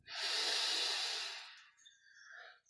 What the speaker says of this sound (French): On prend une grande inspiration.